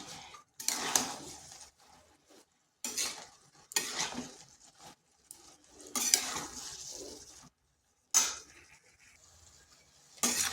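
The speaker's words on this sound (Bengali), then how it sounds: "কপিটা ভালো করে মিশিয়ে নিচ্ছি" Shredded cabbage with chana dal being stirred in a pan, with intermittent bursts of scraping and utensil clinks separated by short quiet gaps and no voice.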